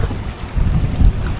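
Strong wind buffeting a fishing boat during a hurricane, a loud low rumbling roar of gusts with water sloshing beneath it, no voices.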